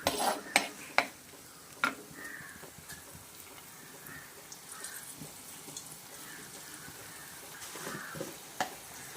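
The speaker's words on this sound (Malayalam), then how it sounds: "സവാള ചേർത്ത് നന്നായി വഴറ്റാം" Onions sauté in a pan, a faint, soft sizzle with a few sharper clinks of the spoon at the start, then gentle, steady frying.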